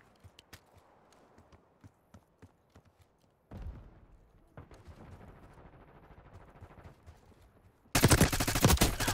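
Gunfire in the Call of Duty Black Ops 6 beta: scattered faint distant shots and footsteps at first, then busier combat noise, ending in a loud, dense burst of close rapid fire.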